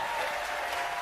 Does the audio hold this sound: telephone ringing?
no